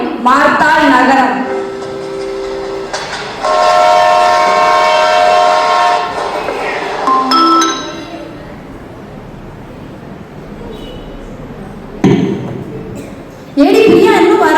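A train pulls into a station and sounds its loud tonal horn in long blasts, followed by a quieter rumbling stretch and further horn bursts at the end.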